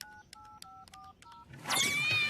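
A telephone number is dialed on a keypad, a quick series of distinct DTMF tones of varying pitch, followed by a louder burst of sweeping electronic tones.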